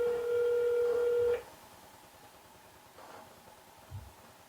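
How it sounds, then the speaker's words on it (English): A phone rings on an incoming call to a Twilio number, one steady electronic tone lasting about a second and a half, then quiet room noise with small clicks. "This is my phone. It's gonna ring first."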